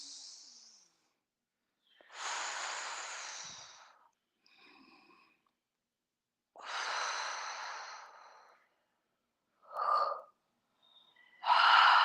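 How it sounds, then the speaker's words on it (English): Deep breaths during a tai chi easy class, several slow airy inhales and exhales spaced a few seconds apart, close and clear against near silence with no talking. "take a nice deep breath in"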